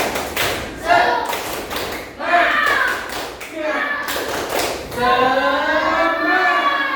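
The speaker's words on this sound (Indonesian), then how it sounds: "Tepuk semangat." A primary school class in Tasikmalaya performs the 'tepuk semangat' spirit clap, a run of sharp hand claps and thumps in a rhythmic pattern, with children's voices and an adult chanting over it.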